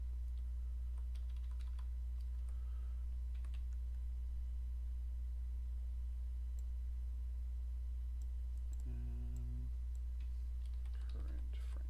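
Faint, scattered clicks of typing on a computer keyboard sit under a steady low electrical hum, with a brief tone and some quiet talk near the end.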